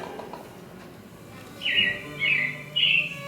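Robins chirp at Walt Disney World's Magic Kingdom, three loud, clear, close calls following one another after a quieter stretch.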